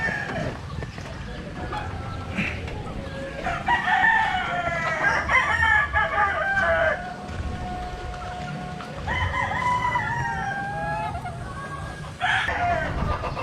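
Paragmanok chickens near a nest of eggs crow in drawn-out calls over constant clucking, loud and close, with other birds layered in the background.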